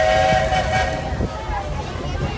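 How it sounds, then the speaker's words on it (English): Walt Disney World Railroad steam train running along its track, a steady rumbling rolling noise with a sustained whistle-like tone near the start, continuous and fairly close throughout. "There are some who say that this steam train is a little old-fashioned"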